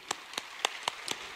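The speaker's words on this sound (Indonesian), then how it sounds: "Boleh tepuk tangan buat surga Bapak Ibu." Sparse, faint hand claps from a church congregation, about six separate sharp claps at an uneven rhythm with quiet between them.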